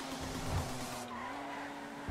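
Car skidding in the GTA Online video game, a close, sharp tire squeal over engine drone lasting about two seconds with no talk.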